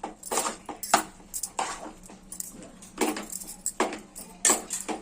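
A metal utensil stirs flour dough through a pot of hot liquid while cooking a traditional Telugu biscuit curry, giving close, irregular bursts of scraping and clinking with short pauses between strokes.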